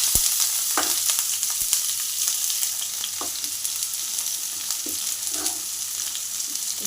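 Onion fries in hot oil for savory semai, giving a steady close sizzle with faint crackles and a few soft stirring scrapes. There is no speech.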